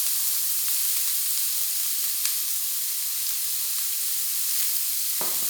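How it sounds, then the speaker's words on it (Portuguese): Onion sautéing in a hot pan, a steady bright sizzle and hiss that holds evenly throughout, close by, with a faint knock or two from stirring and no talk. "Vou refogar a cebola."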